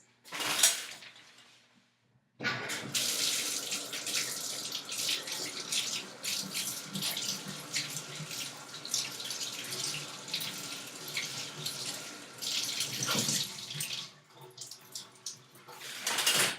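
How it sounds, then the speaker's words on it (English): Water runs from a bathtub tap to dampen a pink beauty blender, a steady hissing stream that starts abruptly after a short quiet gap and keeps going at moderate level before easing off near the end. "if I dampen this, well, I'm going to dampen it in the tub, obviously"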